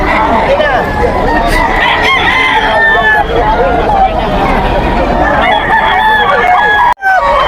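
Gamecocks and bullstags for sale at a poultry market in Bocaue, Bulacan crow loudly and repeatedly, overlapping one another with clucks, over a constant murmur of crowd voices and a brief dropout near the end.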